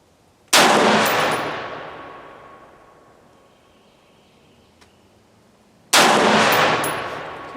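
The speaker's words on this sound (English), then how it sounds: "then we'll shoot, you know, maybe 10-20 rounds to see how accurate it is" Two sharp, loud shots from a MarcLaMar CETME L rifle at a range, each followed by a long ringing decay, spaced several seconds apart with no talking.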